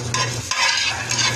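Pork chop frying in a pan, a steady close sizzle with bursts of hissing spatter and stirring scrapes, heard alone without voices.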